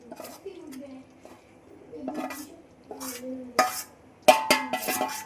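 Gram flour is added to hot ghee in a pan for mohanthal and stirred, giving close clinks and scrapes of a spoon against metal that grow sharper toward the end while someone talks throughout.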